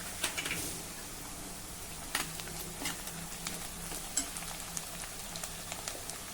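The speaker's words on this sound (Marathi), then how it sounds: "आता 10 ते 12 कढीपत्त्याची पानं घालूया।" Ten to twelve curry leaves dropped into lightly browned onions frying in oil, giving a steady close crackling sizzle with sharp pops scattered throughout, no talking.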